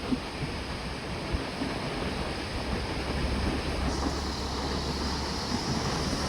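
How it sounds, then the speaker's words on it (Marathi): Continuous rushing water roar of the Alaknanda River from a distance, steady and broadband like a gushing river, with wind noise mixed in. "हे बघा हे पाणी निघतंय अलकनंदा नदीवर"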